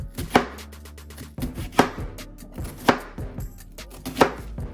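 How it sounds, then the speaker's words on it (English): A knife chops an onion on a cutting board, making four or five sharp, distinct knocks spaced about a second apart with quieter slicing in between, close and clear with no talking. "Just going to slice across like we slice down. And then we're going to get a nice chop."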